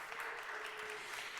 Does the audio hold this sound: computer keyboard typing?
no